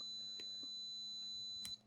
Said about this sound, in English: you can stab on the board and look for short. It's gonna beep